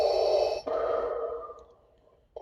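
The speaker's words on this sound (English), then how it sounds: "this one I didn't realize is a button to turn on the breathing sounds for Vader" Darth Vader's mechanical breathing played from the button on a Jazwares costume belt box, one long hissing inhale-exhale cycle that fades out, then a faint click at the end.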